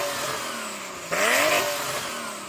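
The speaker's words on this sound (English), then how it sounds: "Now let's have a little bit of 993." A Porsche 911 Turbo of the 993 generation revs sharply from a steady idle-like drone, its engine note climbing and then easing back, loud and close.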